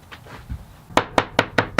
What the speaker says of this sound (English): using a tack hammer, I'm just going to hammer that stitch flush